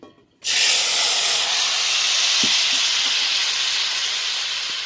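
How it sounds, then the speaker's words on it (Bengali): Vegetables dropped into hot tempering oil for a village-style mixed vegetable dish burst into a loud, sustained sizzle that starts abruptly and holds steady, with a few faint clinks underneath. "এবার আমি তরকারিটা দিয়ে দিচ্ছি ফোড়নের মধ্যে"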